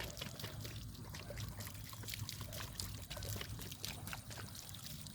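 Water sloshes and pours out of a Thai bottle gourd as it is shaken, a steady continuous splashing trickle throughout with no voices.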